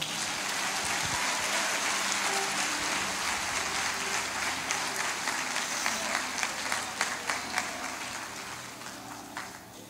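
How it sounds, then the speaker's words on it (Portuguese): A church congregation applauds during a sermon, producing a steady, dense wash of clapping that swells slightly and then continues evenly, heard at a moderate distance. "A igreja pode aplaudir o Senhor."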